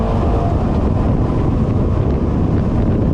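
A dual supercharged 600+ horsepower four-cylinder aquatic utility vehicle runs at full throttle on open water, giving a loud, steady engine roar mixed with wind buffeting and water spray, with no pause for the full stretch.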